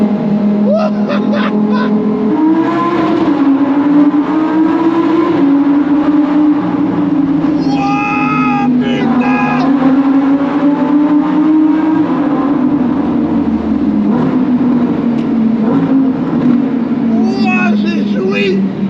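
A loud Lamborghini engine drones and revs, its pitch rising and dropping through downshifts, with speech over it.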